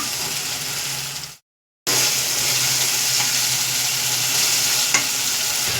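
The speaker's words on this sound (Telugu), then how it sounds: "కొంచెం కొత్తిమీర వేసేసి కలబెట్టుకుందాం." Gravy with coriander sizzling in a pan for a Rayalaseema-style taro root curry, a loud, steady close-up frying hiss with stirring, briefly cut to silence near the start, then continuing.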